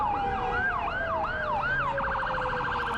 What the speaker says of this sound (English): So you can see there is some sirens coming towards the crowd now